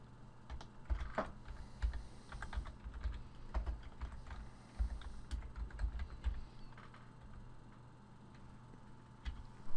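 Keys on a computer keyboard clatter in quick uneven bursts as a folder path is typed, close and fairly quiet, then the tapping fades into a near-silent pause.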